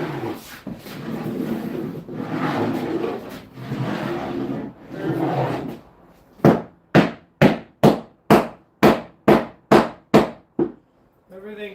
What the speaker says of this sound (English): I'll just check running my hammer. If there's anything sticking up, you'll hear it click.